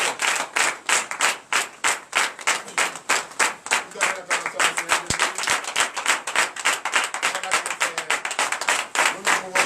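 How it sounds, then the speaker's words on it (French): A congregation at a Monday morning prayer service in Benin claps in a steady, rhythmic beat, loud and close, with voices cheering and calling out over the clapping throughout. "Je vous prie d'acclamer très très fort ce matin."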